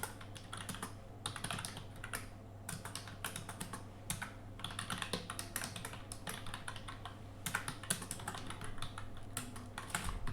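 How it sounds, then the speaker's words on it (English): Someone types a short program on a computer keyboard, quick irregular clicking keystrokes in bursts with brief pauses, faint and close, with no talking. "I'll type in a simple program to print the hello world message"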